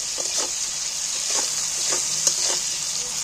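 Chopped tomato fries in hot oil in a pan for a steamed egg dish. A steady, bright sizzle continues throughout, broken by a few soft scrapes of stirring, and no one speaks.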